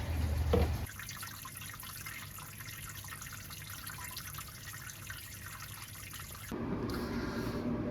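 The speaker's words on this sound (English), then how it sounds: "All of the water's been added, so it's just draining off." Sparge water steadily draining off during a pilsner brew, a continuous soft trickle and splash that runs unbroken, with a brief louder knock at the start and a fuller gush of water toward the end.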